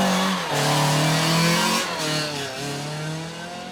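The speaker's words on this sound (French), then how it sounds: "Dominique Gatti, au volant de la même Renault Clio RS" Renault Clio RS race car at a hill climb, its engine revving hard and shifting through gears in rising and falling sweeps, loud and close.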